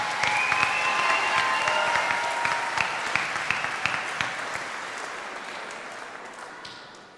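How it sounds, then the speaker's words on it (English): Sustained applause from a large audience at a 2022 high school commencement ceremony, a steady dense wash of clapping honoring graduating students that gradually fades over several seconds, with no talk. "Please join me in applauding this group of students for their commitment of the values of scholarship,"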